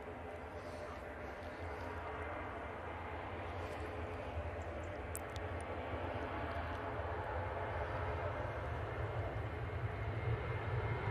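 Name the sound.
propeller aircraft arriving at Manchester Airport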